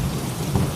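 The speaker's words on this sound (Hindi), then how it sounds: "अचानक एक दिन उस गांव में बहुत ही तेज़ी से बारिश होने लगी" Heavy cartoon rainstorm with a low thunder rumble, a dense continuous wash of pouring rain and a deep roll underneath, brief and steady with no voices.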